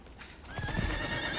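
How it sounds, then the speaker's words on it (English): The Briola horse from Diablo IV gives a close, clear neigh, a rising whinny over faint hoof clip-clops and ambient game sound. "Let's look at this Briola horse."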